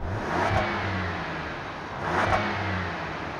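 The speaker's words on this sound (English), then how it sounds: "Let's rev the Wagoneer and hope for the best." A Jeep Wagoneer SUV engine revs twice, rising in pitch and then falling back, loud and close with a steady rumble between the surges.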